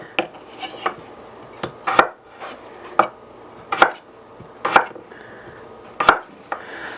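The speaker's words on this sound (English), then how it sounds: "So I'm going to cut them in not too big of chunks, about like that. Get all these taters cut up." A kitchen knife chops potatoes into chunks on a cutting board for a beef stew, landing as sharp, close thuds in an uneven rhythm, about a dozen strikes with softer scraping between them and no voices.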